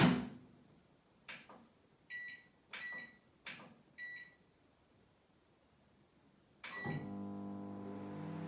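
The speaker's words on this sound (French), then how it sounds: "Et vous allez entendre le micro-ondes au fond." A microwave oven is reheating a mug cake in a home kitchen: a run of short electronic beeps, then a soft door thud and the steady low hum of the oven running, heard from across the room.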